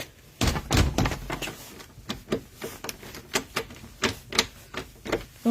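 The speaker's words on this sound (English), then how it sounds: "Uh-oh, wait, I can't get the door open." A door frozen shut after a winter storm is yanked and rattled repeatedly, producing a quick series of knocking thuds and clattering jolts at close range, irregular bursts with short pauses between tugs.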